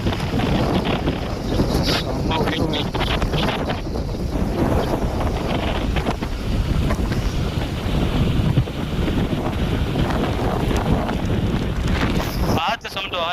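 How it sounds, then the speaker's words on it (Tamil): Steady wind buffeting the microphone from a crowded vehicle climbing a hill road with its door left open, a continuous roaring rush throughout and a brief sharper gust near the end. "காற்று சவுண்டு வர கேட்கும் அவ்வளோ."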